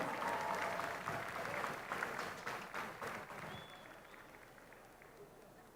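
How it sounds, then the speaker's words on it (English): A stadium crowd at an athletics meet applauds a young female sprinter, the clapping loud and dense at first and then slowly fading, with voices mixed into the crowd noise. "Give her a round of applause."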